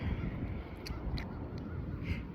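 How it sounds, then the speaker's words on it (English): Crows cawing outdoors, several short harsh calls spaced irregularly at moderate distance over a steady background of wind or rumble. "Hey, and the crows are going."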